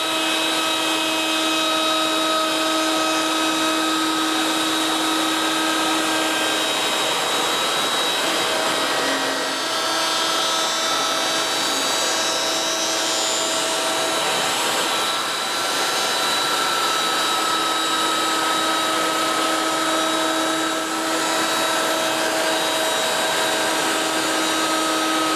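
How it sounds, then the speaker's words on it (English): A router table fitted with a 1/4 inch roundover bit runs continuously, a loud, steady high-pitched whine with a rushing, airy texture and slight shifts as it cuts along a wooden piece for a Willys Jeep grill. "I'm going to do that with a 1/4 inch roundover bit"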